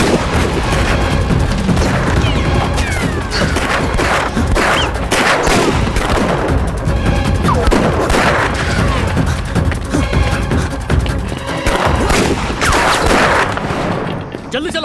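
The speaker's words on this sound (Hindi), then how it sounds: "गोली चलाओ।" Rapid bursts of gunfire crackle loudly and continuously, with booming shots layered over each other and voices shouting in the mix.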